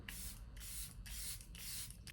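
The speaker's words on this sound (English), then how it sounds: "we don't mess around with setting spray. We drench." Makeup setting spray misted onto a face in four bursts, each a soft close hiss lasting about half a second, with a fifth shorter spritz at the end, quiet overall.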